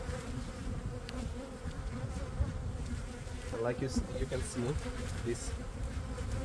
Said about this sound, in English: a lot of bees are outside of the hive